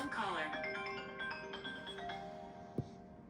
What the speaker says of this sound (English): somebody's phone just rang